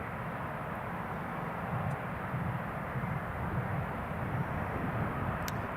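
A Jet2 Boeing 737-800 taxiing toward runway 07 at Newcastle International Airport, heard as a steady, fairly distant jet engine rumble and whine that holds even throughout.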